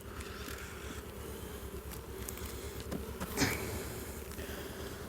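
Honeybees buzz around an opened hive frame in mid-April, a close, continuous droning hum with individual bees swelling past, one passing especially loud near the middle.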